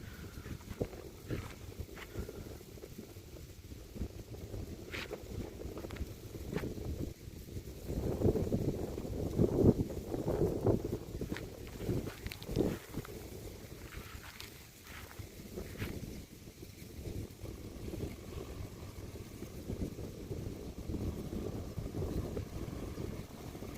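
Wind gusts buffet the microphone beside a sorghum field where an agricultural drone is spraying. A low, rumbling roar swells and eases over about twenty-four seconds, with no voices.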